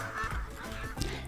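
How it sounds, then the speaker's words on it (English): A duck quacks a few times at moderate volume in a children's counting lesson, with faint background music and little else. "What sound does a duck make? Quack, quack, quack."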